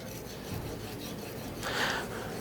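Chef's knife sharpened on an 8000 grit whetstone, a soft, close rasping of steel sliding across the stone with a brighter, firmer stroke near the end.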